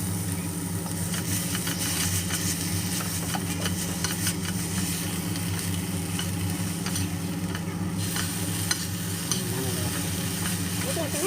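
Garlic sizzling in oil in a pan with blanched dried squid, a steady crackling fry with occasional stirring scrapes under a low constant background hum.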